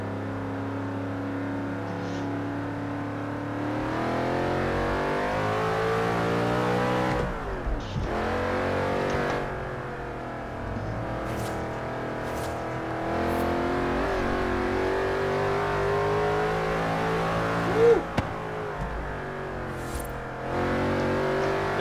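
Car engine in Forza Horizon 3 played on a Fanatec Clubsport V2 wheel, revving hard through repeated climbs and gear shifts, loud and close, with sharp drops and one clutch-dump surge near the end.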